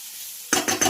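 Okra (bhindi) sautéed in an open pan: after a faint sizzle, three quick scraping stirs of a spatula against the pan ring out close and bright, one after another.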